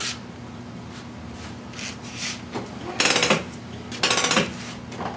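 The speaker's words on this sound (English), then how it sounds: "You can hit the power on the prep one parts washer." A Prep One parts washer used for cleaning RC car parts runs with a steady low hum, broken by two loud bursts of spraying and clattering.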